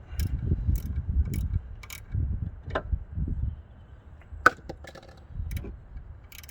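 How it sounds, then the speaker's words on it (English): A wrench ratchets in short bursts while tightening a bolt during an actuator install on an Abarth 595, with quiet clicks and a few sharp metallic taps between pauses. "Finally I can get my wrench in and actually do that properly."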